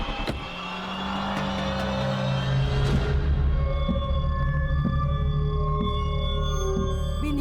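A car engine idles and runs steadily, a continuous low rumble with a rising hum early on, mixed with tonal background music.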